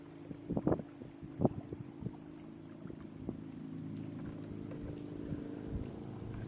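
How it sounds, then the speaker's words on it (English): Boats on the water heard from the shore, a low continuous engine hum somewhere in the distance, with wind buffeting and a few soft knocks close to the microphone. "you could probably hear the boats in the background"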